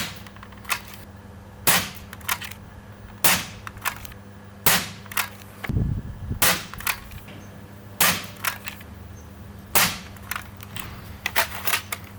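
A foam dart blaster fitted with a Ceda brass breech and new spring fires repeatedly, giving sharp close snapping shots at an irregular pace with brief mechanical clatter in between.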